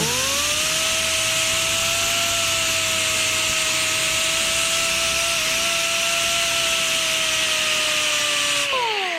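A wire wheel spinning steadily against the marred camshaft seal surface of a Subaru 2.5 engine during a head gasket job, a loud continuous whirring grind with a high tonal whine that winds down at the end.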